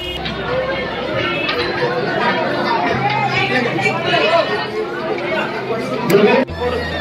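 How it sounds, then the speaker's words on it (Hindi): Chatter of a large crowd of pilgrims at Vaishno Devi, many overlapping voices forming a dense, close, continuous babble. "बहुत ज़्यादा भीड़ है, बहुत ज़्यादा।"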